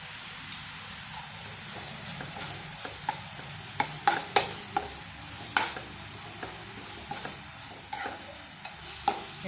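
Ginger garlic paste and onions frying in a pan: a low, steady sizzle under sharp, irregular clicks and taps of a spatula stirring against the pan, close by with no talking.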